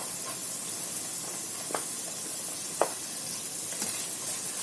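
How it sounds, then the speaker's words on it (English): French beans going into translucent onions in a pan for homemade vegetable soup, a steady soft sizzle and hiss with a few brief clicks of stirring, fairly faint and close. "when our onions turn a little translucent, next will go in our French beans"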